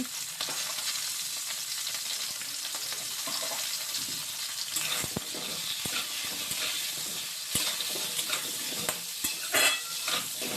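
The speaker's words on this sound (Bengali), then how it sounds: "পটলটা ভাজলে সামান্য নুন হলুদ দিয়ে পটলটা একটু ভেজে নেবো" Steady sizzling of young pointed gourd pieces frying with salt and turmeric in a pan, with occasional stirring scrapes and clinks throughout, fairly close and continuous.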